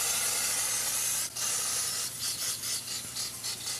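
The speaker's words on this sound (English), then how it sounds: "Just spray it." Dior Airflash spray makeup sprayed from its can in one steady, close hiss lasting over a second, followed by several shorter bursts and sputters.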